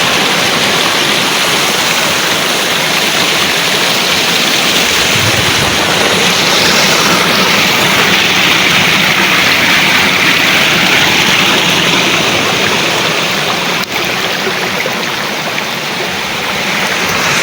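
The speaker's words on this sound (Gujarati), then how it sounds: "પાણી ફૂલ આવવાનું ચાલુ છે અંદરથી પાણી ફૂલ આવે છે" Strong, steady rush of flowing water, a dense continuous roar close by with no pauses.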